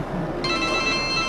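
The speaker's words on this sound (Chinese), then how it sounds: "等我回电话啊" A telephone bell starts ringing about half a second in, a steady electronic trill over a quiet room background with no talking.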